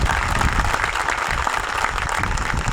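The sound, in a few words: audience applause at Ambedkar Jayanti event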